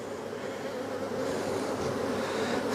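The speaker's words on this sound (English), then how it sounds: "Trying to smoke these bees down," Honey bees swarm and buzz around an open hive being smoked, a dense, steady drone that holds loud and close throughout with no voices.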